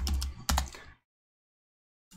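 Rapid keystrokes on a computer keyboard as a command is entered in a terminal, a quick burst of clicks lasting about a second, then silence and a faint final tap.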